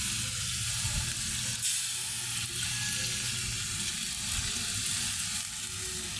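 Coconut milk goes into a pot of vegetables cooking for ginataang gulay, giving a continuous loud sizzling, bubbling rush with some stirring, close and steady throughout.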